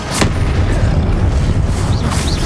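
Spell blasts from Confringo and Descendo in Hogwarts Legacy, heavy booming impacts and crackling bursts rolling over a rumbling low background, with a couple of sharp hits standing out.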